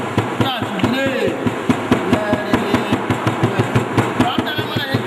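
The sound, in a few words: hammer pounding glued leather for shoe making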